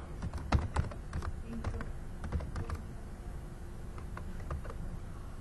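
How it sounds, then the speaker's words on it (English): Steady typing on a computer keyboard during an office skills training session at a hospital, a quick run of close, crisp keystrokes that thins out toward the end over a soft background hum. "I'm just typing some junk."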